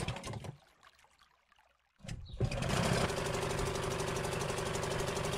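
A small boat engine in the video game Martha Is Dead briefly sounds, falls nearly quiet, then starts up and settles into a steady, buzzing, close running drone for the rest of the stretch.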